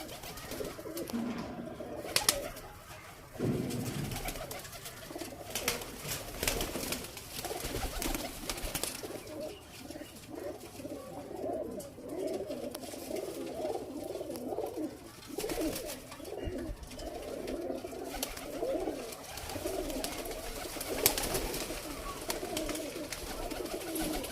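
Paired pigeons coo continuously in soft, throaty rolling calls, several birds overlapping, with occasional wing flutters and clicks nearby.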